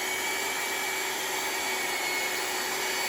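A pipe threading machine spins its cutting die with a loud, constant whirring drone that holds an even level throughout, with no voices.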